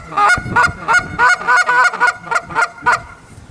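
A flock of geese honking: around ten loud, close, nasal honks in a quick irregular series, some overlapping, calling between birds on the ground and birds overhead.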